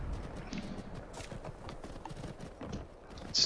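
Horse hooves gallop in a steady clip-clop rhythm in the video game Skyrim, close and continuous over game ambience with no talk.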